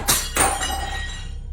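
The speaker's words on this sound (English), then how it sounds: "we hear a glass object being hit and then falling to the floor, shattering upon impact" A glass object is struck, clinks, then drops to the floor and shatters in two sharp bursts, the bright ringing shards fading out in an indoor room.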